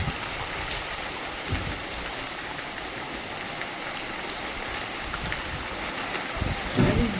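Heavy, untimely rain pours down during a storm at a rural home, a dense, even hiss of downpour on surfaces that runs for several seconds with no voices, water rising onto the verandah.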